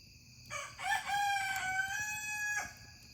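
A rooster crows once, a drawn-out cock-a-doodle-doo at moderate distance, with faint background noise around it.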